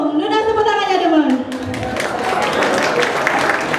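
After a brief voice, an audience at a Balinese music album launch breaks into steady, sustained clapping that fills the rest of the moment.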